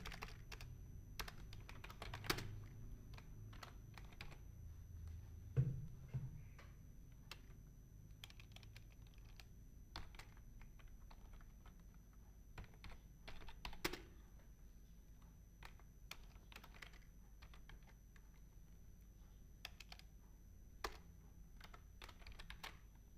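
A computer keyboard clatters faintly as text is typed into MS Word, irregular soft keystrokes with a few sharper taps and no talking.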